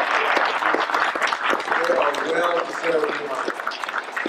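A crowd claps steadily in sustained applause at a fire department graduation and promotion ceremony, gradually thinning out, with voices talking over the clapping.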